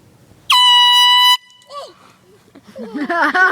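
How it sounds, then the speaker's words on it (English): A handheld air horn gives one loud, sustained blast of nearly a second, then cuts off, and excited voices follow as part of a prank. "we're going to prank him with this air horn for sports, safety, and pranks"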